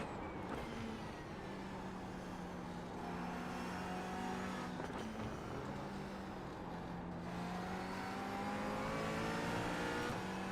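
A McLaren race car in the iRacing simulator, its engine whining and revving up through rising and falling gear pitches, with brief tire squeal and no voices over the steady drone.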